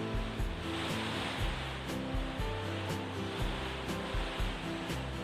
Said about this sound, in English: Can you hear it? It's absolutely pouring down.